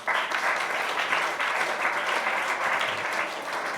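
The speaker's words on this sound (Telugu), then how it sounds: "అతనికి చప్పట్లు కొట్టండి." A lecture audience claps in steady, continuous applause, dense and fairly loud throughout, with no voices standing out.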